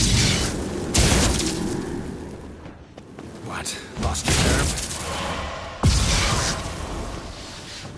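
Booming cannon-like blasts burst out several times amid a noisy Witcher 3 game soundscape, with a voice speaking briefly between the explosions.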